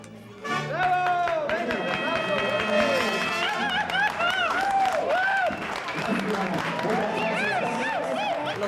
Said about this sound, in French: Les applaudissements du public, c'est formidable.